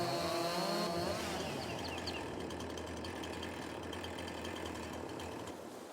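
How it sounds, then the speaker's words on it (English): A chainsaw engine in the video game No Man's Land fires up and runs, a steady buzzing motor drone that holds at an even level, with a voice briefly heard at the start. "Fire up the chainsaw"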